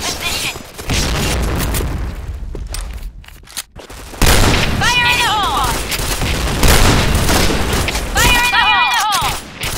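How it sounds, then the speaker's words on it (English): Grenade explosions boom in a video game firefight, with heavy rolling blasts and sustained gunfire, plus chirpy electronic radio tones in between. "Fire in the hole!"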